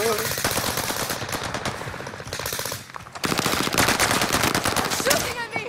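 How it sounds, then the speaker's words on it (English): Rapid automatic gunfire from a Call of Duty match on Rebirth Island, dense bursts of shots close and loud, with players shouting over them. "Shooting at me. Sending motherfucker. I'm taking shots."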